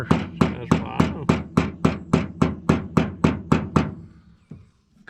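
About a dozen sharp, evenly spaced metallic hammer strikes on a center punch into metal of a 1959 Edsel Ranger, ringing close up, then a short quiet pause and one faint knock.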